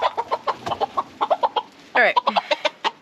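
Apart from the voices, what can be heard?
chicken clucking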